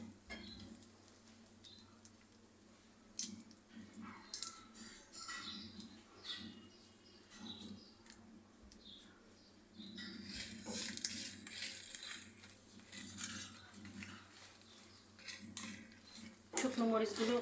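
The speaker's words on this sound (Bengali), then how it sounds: "শুকনো মরিচগুলো লাল লাল করে ভেজে নিয়ে তারপরে আমি এটা তুলে নিব।" Dried red chilies frying in hot oil for a garlic bhorta, a steady crackling patter that runs throughout and grows busier and louder toward the end, with occasional utensil clinks and a voice speaking now and then.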